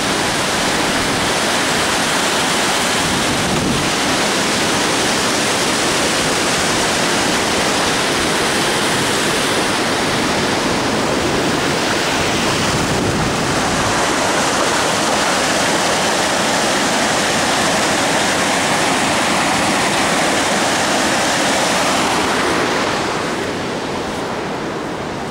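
Water rushes steadily and loudly through the intake channel of a dam, a dense continuous roar with no voices, easing slightly toward the end.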